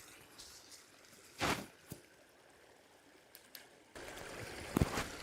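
River water flowing outdoors on a day trip in Tochigi, a soft steady rush that swells louder in the final second, with a few brief nearby knocks and splashes over the stream.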